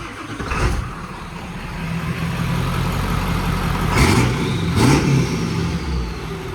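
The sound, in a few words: 1997 Ford F-250 7.3 Power Stroke turbo diesel starting up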